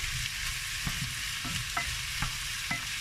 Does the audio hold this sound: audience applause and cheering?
no